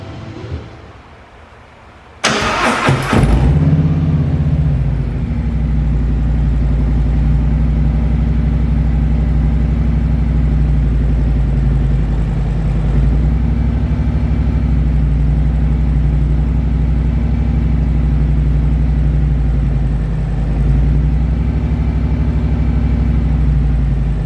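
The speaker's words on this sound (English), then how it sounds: "we're going to go ahead and start the bike up, let it warm up for about, let's say 1 minute" A 2019 Harley-Davidson Road Glide Special fires up after a short crank and settles into a steady, loud, close idle, its deep rumble holding evenly as the engine warms up.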